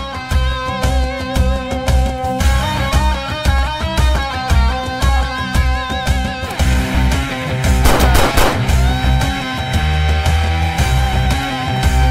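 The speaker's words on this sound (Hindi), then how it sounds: "तीन लोगों पर गोलियां चलाई गई हैं" Gunfire in a film scene: rapid bursts of shots crackle under a loud, dense music score, with the heaviest volley near the end.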